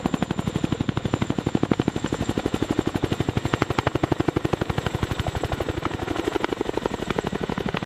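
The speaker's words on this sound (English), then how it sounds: "Its tandem rotor design eliminates the need for a tail rotor" A CH-47 Chinook tandem-rotor helicopter thumps with a rapid, steady blade chop, loud and close, the rhythmic pulses running unbroken over a roaring engine whine.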